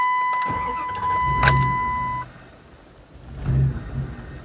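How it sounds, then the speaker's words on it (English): A 2000 RT car engine started cold with no throttle, cranking into a rough idle near the microphone, with a brief mechanical whir and engine surges under a steady whine. "this is me starting it without giving it any gas as well"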